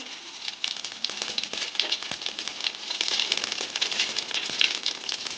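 Cumin seeds sizzling in a small amount of hot oil in a heated pan on a gas stove, giving a steady close crackle and fizz with scattered pops throughout.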